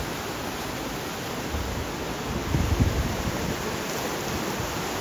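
A waterfall at the Sita Devi temple in Ashoka Vanam, Nuwara Eliya, pours in a continuous, even rush of broadband water noise, steady and enveloping throughout.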